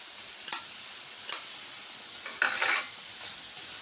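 Chicken liver frying in ghee as crushed garlic and chili are tossed in, giving a soft steady sizzle with a few brief stirring scrapes and clinks of a utensil against the pan, close by and with no voices.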